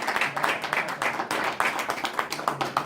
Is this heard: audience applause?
yes